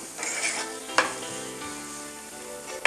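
Vegetables and beans sauté in a pan with a close, steady sizzle, broken by a sharp clink of the spoon against the pan midway and another at the end.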